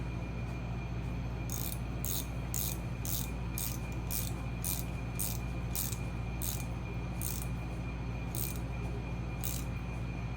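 Steady, evenly spaced metallic clicks, like a ratchet, come from tightening an oil line fitting on a Harley Shovelhead engine during a rebuild, heard close over a constant background hum.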